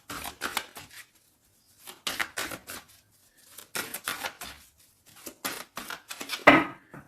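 A tarot deck is cut into three piles and handled by hand, giving a series of close, crisp papery slaps and riffles in short clusters with quiet gaps between them.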